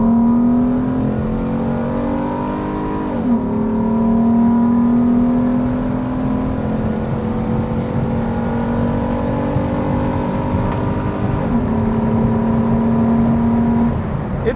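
A 2003 Acura 3.2CL with a J-series V6 accelerates hard from inside the cabin, engine note climbing steadily through two gear changes with a brief dip between, loud and continuous over road noise.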